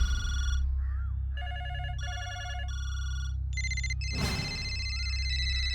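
A telephone rings with a repeating electronic ringtone of bright, beeping melodic tones, moderately loud over a low background hum.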